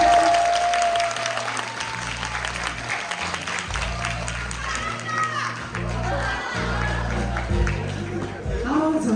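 An audience applauds at a Namhae choir concert held for the Hadong World Tea Expo, steady, full applause lasting throughout, with crowd voices and low background tones underneath.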